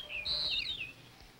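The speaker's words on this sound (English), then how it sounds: "I'm listening for the bird." A single short bird call, a bright warbling chirp just over a second long, sounds fairly faint over quiet low rumble.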